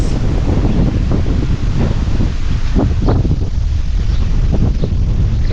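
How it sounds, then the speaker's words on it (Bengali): Strong wind buffets the microphone in a continuous loud rumble, with gusts rising and falling throughout. "এত সুন্দর বাতাস"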